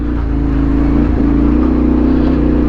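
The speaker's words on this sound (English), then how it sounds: "I don't know whether you can hear that amount of wheel spin there" Yamaha Tenere motorcycle engine droning steadily and close as the rear wheel spins on a loose trail, a continuous loud revving hum with slight surges throughout.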